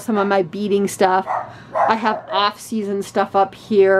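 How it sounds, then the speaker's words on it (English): A dog barks upstairs in repeated short, sharp yaps, close and fairly loud, interleaved with someone talking continuously. "And so that's why the dog's barking upstairs."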